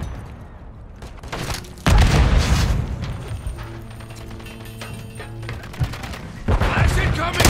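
A frag grenade in the shooter Modern Warfare 3 going off with a sudden heavy blast, followed by mechanical clanks and rattling gunfire, then another loud burst near the end; no talking.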